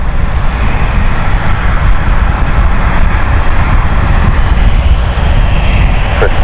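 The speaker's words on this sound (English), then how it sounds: "There she is, beautiful Airbus A220" An Airbus A220 jet at London City Airport roars loud and steady with a dense continuous engine rumble, close by and without pause.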